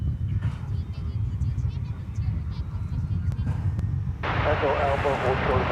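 A fixed-wing airliner taking off from the east side of DFW Airport, a steady distant engine roar that swells into a brighter, louder rush near the end, with voices nearby.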